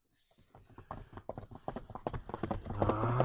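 A horse runs in rural Nookat, its rhythmic hoofbeats clip-clopping steadily and growing louder as it nears, ending in a rising tonal cry.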